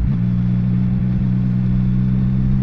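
A CFMOTO 675SR-R motorcycle with its standard exhaust removed runs at a steady, loud engine tone close by, its droning hum holding unbroken with no talk.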